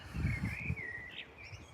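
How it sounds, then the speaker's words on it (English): Outdoor birdsong from real birds: a clear, sustained chirping phrase rises and falls over soft rustling and low ambient rumble. "As a reminder, these are real birds"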